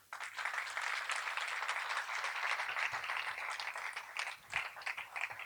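A church congregation applauds the Lord with sustained, steady clapping from many hands, moderately distant and even in intensity, without speech.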